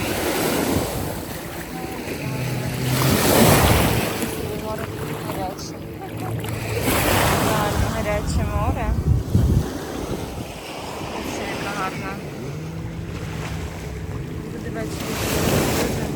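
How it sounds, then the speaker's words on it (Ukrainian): Sea waves wash onto a beach in the UAE under steady wind buffeting the microphone, surf swelling and receding in broad surges while someone speaks briefly. "А, море."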